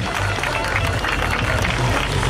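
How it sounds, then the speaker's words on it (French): Outdoor crowd at a Roc d'Azur mountain bike event in Fréjus applauding a rider after his run, steady dense clapping and cheering mixed with a low rumble of background noise, with no clear pauses. "On peut applaudir Mario, s'il vous plaît."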